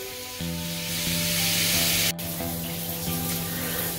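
A hotel bathroom basin tap runs with good pressure in Khon Kaen, Thailand, giving a steady close hiss of water that rises slightly mid-clip, with a faint electronic hum underneath.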